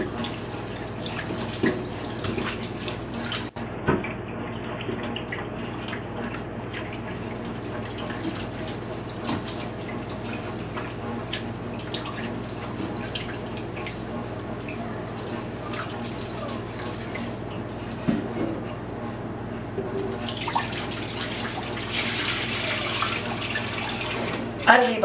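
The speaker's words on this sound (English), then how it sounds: "This is where we're going to swirl them and make the cold water go in between the eggshell and the hard-boiled egg." Hard-boiled eggs swirled in cold water in a pot, soft sloshing and dripping sounds over a steady background hum, ending with a burst of running water.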